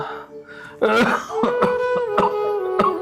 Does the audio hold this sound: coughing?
yes